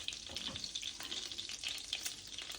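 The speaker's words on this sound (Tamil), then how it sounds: "இதோட 10 கிராம் பட்டர் சேர்க்க போகிறேன்" Butter melting into two tablespoons of hot oil in a pan for chilli baby potatoes gives a faint, steady sizzle with soft crackles throughout, with no talking.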